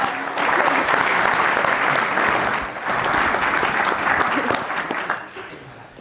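Wedding guests break into a big round of applause at a reception, sustained clapping from a crowd that dips briefly midway, swells again and tapers off toward the end.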